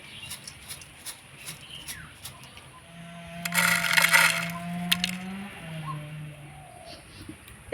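Crisp homemade potato bhujia crunches close up, with a dense burst of crackling in the middle amid scattered smaller snaps and faint background tones.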